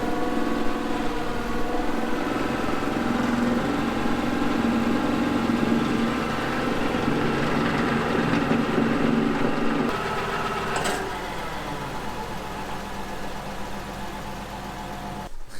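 Farm machine fitted with hammers, driven by a running engine, gives a steady loud mechanical drone with whining harmonics; the pitch drops and the sound eases partway through.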